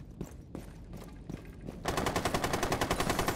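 Gunfire in Rainbow Six Siege: several separate shots at first, then a rapid, loud, steady burst of automatic fire that runs to the end.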